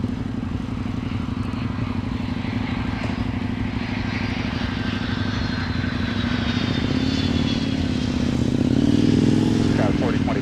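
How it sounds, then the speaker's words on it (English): A Delta Airlines Boeing 757-300 airliner arrives at MSP airport, its steady low engine roar holding loud throughout and swelling slightly near the end, with faint higher whines layered above. "Here comes another one of our favorites, Alex, the 757-300, Delta Airlines,"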